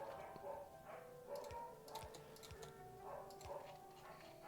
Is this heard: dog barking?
yes